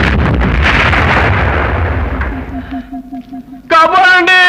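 Bomb blast sound effect in a Telugu comedy film, a loud broad roaring burst that rumbles and slowly decays over several seconds before music and voices take over.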